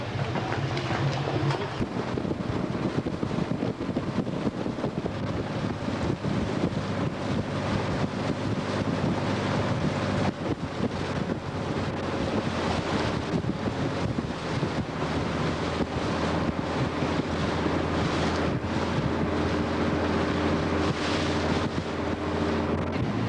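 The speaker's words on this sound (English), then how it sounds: "Right now, turning for our water taxi here in Venice." Water taxi boat ride in Venice, with a steady engine hum and rushing water and wind noise across the microphone, continuous and loud throughout, with no talking.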